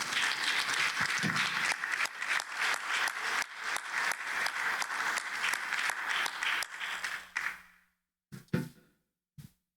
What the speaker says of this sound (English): Let's give a hand clap of praise to God for that right now.